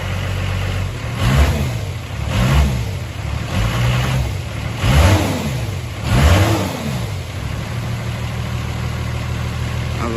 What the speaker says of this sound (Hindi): तो अभी इसका साउंड देखिएगा टर्बो का, तो टर्बो का साउंड देखिएगा।